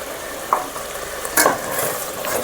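Green chillies tipped into hot oil in a pan for an Andhra fish curry, giving a steady sizzle with a couple of sharp stirring scrapes close by.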